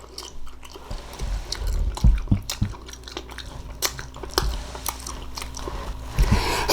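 Up close, someone chews a mouthful of green beans cooked with onions, producing wet, squishy bites and crunches in an irregular rhythm, with faint clinks of cutlery in between.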